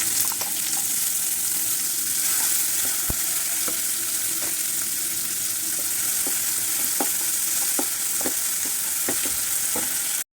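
Tomatoes and green chillies roasting in a pan, a steady broad sizzle with scattered sharp clicks and taps of a spoon stirring, close and even throughout with no voices.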